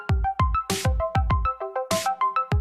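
Phone ringtone sound effect: a bright, rhythmic electronic melody of quick plucked tones repeating in a steady pattern, with two brief bursts of buzzing noise, loud and alone.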